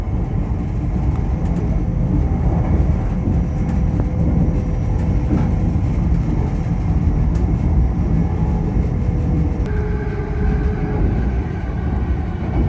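LNER passenger train from Aberdeen to London King's Cross running fast near Stirling, a continuous loud rumble of wheels on rails with faint clicks and tones, heard steadily from inside the moving train, no talk.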